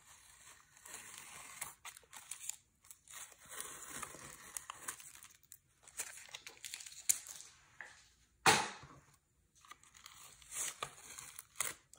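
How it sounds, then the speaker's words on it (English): Masking tape is peeled off a finished painting in a run of crinkly, tearing strips, with intermittent rustles and pauses and one sharp, louder rip near the end, close and without talk. "So let's take the tape off."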